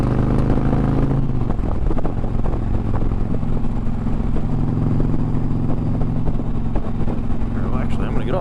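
A loud Dodge Challenger engine runs with a deep, rough, steady drone that shifts in pitch early on and stays strong throughout.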